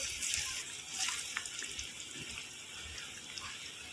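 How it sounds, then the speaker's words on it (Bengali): Homemade wheat-flour biscuits frying in mildly warm oil over low to medium heat, a quiet steady hiss and fine crackle throughout, close and without any talk. "এবার একে একে আমি বিস্কুটগুলোকে দিয়ে ভেজে নেব।"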